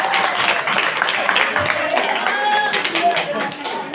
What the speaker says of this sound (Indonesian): Tepuk tangan untuk kandidat kita.